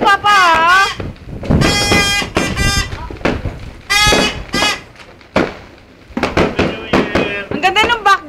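New Year fireworks bursting nearby in repeated loud bangs and crackles, with whistling rises between them, while people shout and cheer close by throughout.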